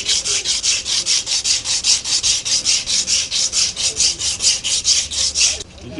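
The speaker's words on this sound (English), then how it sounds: "you start with the rough to level down all the marks your rasper has given the job" Rough sandpaper rubbed back and forth over a carved wood piece, a steady rhythmic rasping of about two strokes per second, close and loud, stopping at the end.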